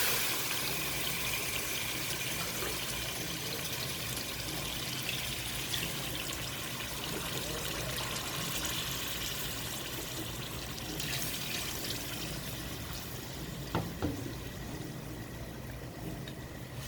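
Water is poured into a pot of rice for mutton pulao, a continuous close splashing and trickling that runs steadily for a long stretch with no talk.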